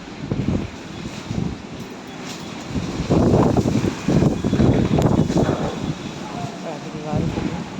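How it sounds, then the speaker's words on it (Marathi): Strong storm wind gusting around a house during light rain, roaring in surges and buffeting the microphone, growing heavier midway through with rumbling gusts close by; a voice is faintly present. "आता वारं जास्त आणि पाऊस कमी असंच वातावरण चालू आहे"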